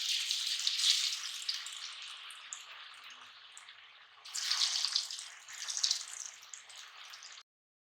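Potato chips for crispy fries hiss and sizzle steadily in hot oil, a bright continuous frying crackle that swells louder midway, then cuts off abruptly.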